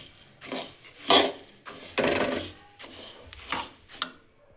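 A spoon scraping and clinking against a pan as food is stirred while it roasts, irregular close scrapes and knocks in uneven bursts with no talking.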